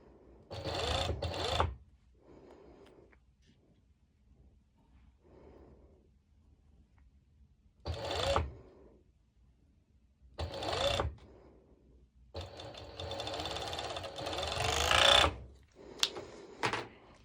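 Serger stitching a knit crop top seam, several whirring bursts of machine running of varying length separated by quieter handling noise, close by.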